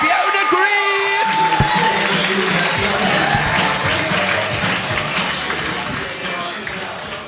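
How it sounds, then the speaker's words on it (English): Audience at a live stage show breaks into applause and cheering for the next act, dense clapping with whoops that swell early and then gradually fade. "start the applause. Start the cheering"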